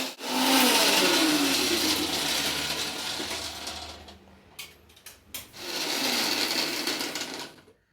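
A mixer grinder grinds masala with green chillies for a fish fry, a loud steady whirring motor that runs strongly, drops and sputters through a few short pauses and bursts, then surges again before cutting off.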